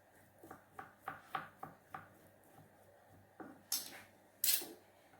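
Fish meat being grated by hand for pempek, a series of rhythmic scraping strokes in bursts, then a pause and a few louder, sharper scrapes near the end.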